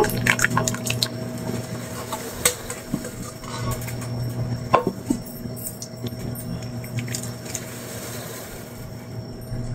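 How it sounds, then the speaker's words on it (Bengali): Cooled boiled milk for a bread pudding is strained, giving soft drips and trickles under a steady background hum. Occasional light clinks of a utensil come in, and no one speaks. "সেই দুধটা এই পাশ থেকে ছেঁকে নেব"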